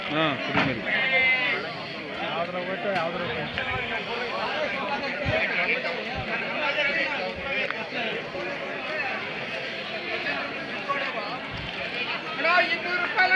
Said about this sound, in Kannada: ಕುರಿ ಮರಿನಾ